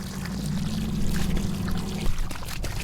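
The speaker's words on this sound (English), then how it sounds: "So now let's fill this thing up with water." Water pours steadily into a container for an iris transplant, a close, continuous splashing gurgle that changes tone about two seconds in.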